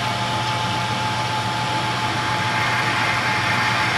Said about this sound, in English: Now we're spot drilling in the end.